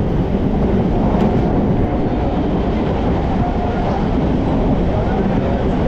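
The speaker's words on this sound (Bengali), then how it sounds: "এই ট্রেন বেরিয়ে গেল কাকদ্বীপ থেকে।" A crowded train pulls out of Kakdwip station in West Bengal, a loud, steady, close rumble of wheels and carriages rolling on without a break.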